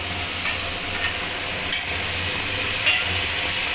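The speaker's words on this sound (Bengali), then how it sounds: "মশলাটা ভালো করে ভাজা হয়ে গেছে এর থেকে তেল ছাড়ছে এবার আমি কচুর লতিটা দিয়ে দেবো" Taro stolons are added to spices frying in oil with cumin and turmeric, producing a steady, even sizzle with occasional soft stirring scrapes, close and continuous.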